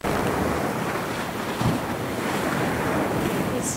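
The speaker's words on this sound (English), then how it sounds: "A strong wind arose and the boat was tossed around the waves." Strong wind and crashing ocean waves used as a storm sound effect for a boat tossed at sea, a loud, dense, continuous roar of surf and gusting air with a brief heavier swell midway and no talking.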